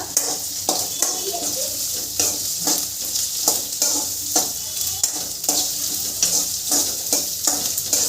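Cashews frying in a pan of hot oil for paneer mutter masala, with a loud, continuous close sizzle and regular scraping stirs throughout.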